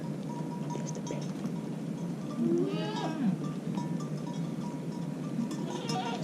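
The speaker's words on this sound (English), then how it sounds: "she takes the baby goats and puts them under the basket" Baby goats bleat at a monastery in Jhong, a few wavering cries rising above a steady background hum, with a cowbell-like clink somewhere nearby.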